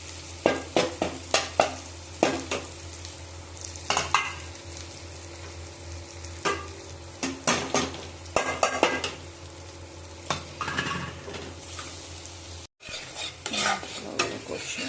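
Ground turmeric, chilli, Kashmiri chilli, cumin and coriander fry in a pan for alu kabli, a steady sizzle broken by repeated scraping stirs and spatula knocks against the metal, close and continuous with a brief gap near the end.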